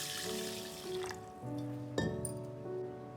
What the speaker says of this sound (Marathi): तर सगळ्यात आधी हे तांदूळ धुवून घ्यायचे